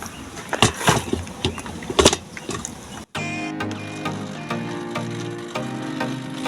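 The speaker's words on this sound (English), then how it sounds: "Now I blend everything one time." Fruit for juice knocks and clatters in a blender for a few seconds, then the motor starts and settles into a loud, steady, humming whine that runs on without a break.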